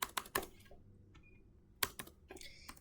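Keys tapped on a computer keyboard in short bursts, a few quick clicks followed by a pause and then a firmer press of the enter key, close and fairly quiet.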